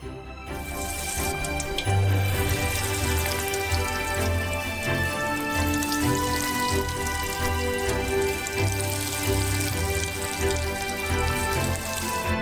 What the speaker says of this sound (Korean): 그리고 이 퓨레들을 튀겨주세요.